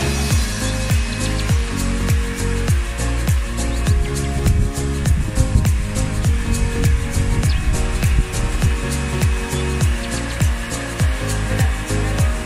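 A hair blower dries hair during a rebond treatment, giving a steady close whooshing roar with a rapid rhythmic pulsing clatter running through it, and no talking.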